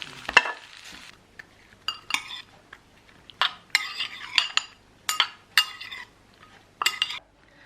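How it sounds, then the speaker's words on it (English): Hot cooked courgette is stirred into a dressing with a utensil: scraping stirs and light clinks against the bowl come in irregular bursts over a low, quiet background, with no talking. "Next, the cooked courgette goes into the dressing."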